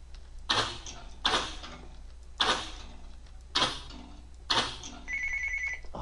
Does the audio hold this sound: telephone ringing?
yes